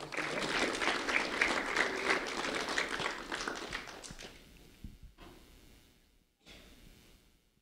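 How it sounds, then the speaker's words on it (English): A school-ceremony audience claps in a dense round of applause for a fourth-grade student, loud at first and then thinning and fading into scattered claps and quiet. "Peyton Wooten, a round of applause for Peyton Wooten, please."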